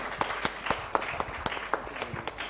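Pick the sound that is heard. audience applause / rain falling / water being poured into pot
audience applause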